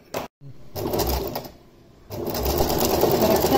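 Sewing machine fitted with an embroidery foot stitching in steady bursts, a close mechanical whir that pauses briefly and then resumes, with no talk over it.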